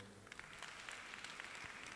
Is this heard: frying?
no